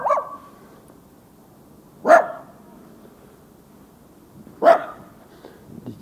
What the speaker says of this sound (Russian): слышим, что здесь кругом со всех сторон собаки лают